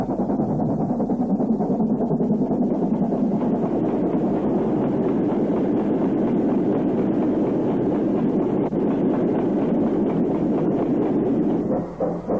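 A British Railways LMS 8F steam locomotive of the 1950s runs in a loud, continuous rumble with rhythmic clatter and chuffing, steady throughout and close by, with no voices.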